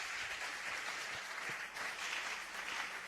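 A church congregation applauds in sustained, dense clapping that stays steady and fairly loud throughout, with no talking over it.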